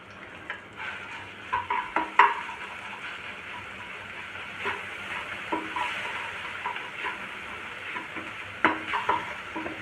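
Garlic chutney sautés with onions in a pan, a continuous sizzle broken by repeated stirring scrapes and clinks of a utensil against the pan, close and moderately loud.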